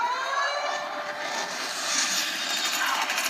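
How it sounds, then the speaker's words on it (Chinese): A fixed-wing airplane flies past, played back through the front-facing stereo speakers of an HTC One phone, a loud continuous broadband roar that swells and sweeps across the channels without speech. "你可以听到很明显的一个飞机的那个从旁边飞过的声音"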